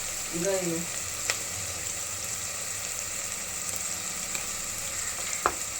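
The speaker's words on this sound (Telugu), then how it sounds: "అల్లం పేస్ట్ స్మెల్ పోయేంత వరకు ఫ్రై అవ్వాలి." Onions with ginger paste fry in a pan for a chicken curry, giving a steady broadband sizzle with a couple of sharp utensil clicks; a brief voice-like sound near the start, otherwise no talk.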